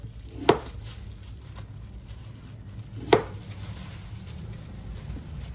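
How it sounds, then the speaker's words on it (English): Potatoes sliced by a gloved hand into little slices, two distinct knife thuds against a board about two and a half seconds apart over a low steady kitchen hum. "Just slice them up in little slices, like so."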